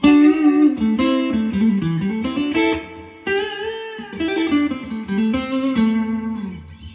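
Clean electric guitar playing melodic lines through a Tone King Imperial Mk 1 amplifier on its clean channel with tremolo off, bright and close, with chords and single notes ringing steadily for several seconds, no voices.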